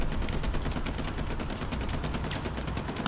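Rapid, dense bursts of gunfire and artillery booms from a Hell Let Loose match on the Sainte-Mère map, a loud continuous barrage with no voices.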